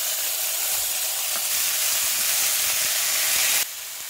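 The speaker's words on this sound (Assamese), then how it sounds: "শাকখিনি এতিয়া অলপ ভাজি ল'ব" Chopped spinach dock leaves sizzle steadily in a hot wok, a loud continuous frying hiss that holds for about four seconds before dropping slightly at the end, with no voices.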